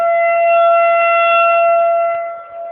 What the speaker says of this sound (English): Tornado siren test.